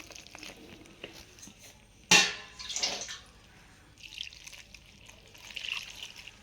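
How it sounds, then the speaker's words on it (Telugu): Water pours into four cups of gram flour for boondi batter: a sudden close splash, then a softer trickle that tapers off, with faint liquid dribbles later. "దీంట్లోకి అయితే వాటర్ పోసుకోవాలి"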